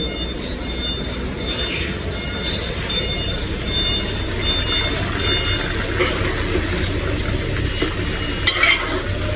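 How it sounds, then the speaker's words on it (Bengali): Sponge gourd curry bubbling and sizzling in a pan over a lowered flame, a steady close simmering hiss with occasional scraping clinks of a spoon stirring through it. "এই দুন্দুলের তরকারিটা আরেকটু ঝোল আমি কমাবো।"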